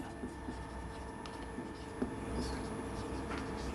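Faint scratchy strokes of a pen or marker writing on a board during a physics lecture come through in short, uneven bursts over a low room hum.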